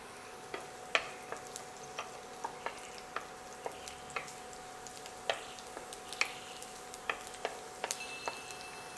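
Soft, steady sizzle of garlic frying in hot ghee in a pan, with scattered small ticks and pops throughout; quiet and close, no talking.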